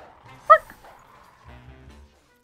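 Dog barking in a digital card game, one sharp yip early on and then a quieter low growl or whimper before silence.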